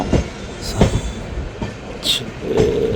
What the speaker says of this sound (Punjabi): ਆਪਣੀ ਟ੍ਰੇਨ ਜਿਹੜੀ ਆ 12053 ਅੰਮ੍ਰਿਤਸਰ ਜਿਹੜੀ ਆ ਇੱਥੇ ਜਨ ਸ਼ਤਾਬਦੀ ਪਹੁੰਚ ਰਹੀ ਆ